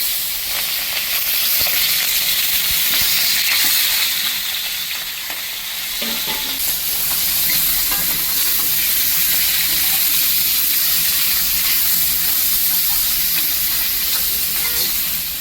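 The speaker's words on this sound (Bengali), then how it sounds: "আমি মাছগুলি বেশি ভাজবো না, অল্প ভাজবো, তাই সব মাছগুলি আমি একসাথে দিয়ে দিলাম।" Stinging catfish (shing fish) fry lightly in a pan, giving a loud, close, unbroken sizzle with a faint steamy hiss throughout and no talking.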